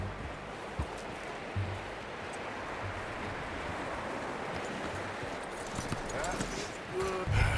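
Horse hooves clip-clop in Red Dead Redemption 2, a few soft scattered steps low in the mix under steady wind and outdoor ambience, with a short voice near the end.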